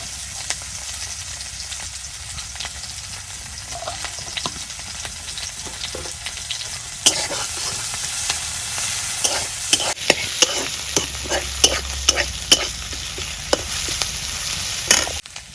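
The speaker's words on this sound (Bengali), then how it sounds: "এখানে আমি তেল দিয়ে দিলাম, আবার মাছ আর পেঁয়াজ কেটে দিলাম।" Fish head and onions sizzle in hot oil in a pan, a steady frying hiss with repeated sharp scraping and stirring clicks that grow busier toward the end.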